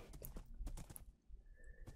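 A horse in the video game Minecraft clip-clops along in quick, steady hoofbeats, and a brief, thin whinny follows near the end.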